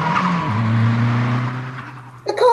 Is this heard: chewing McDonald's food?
no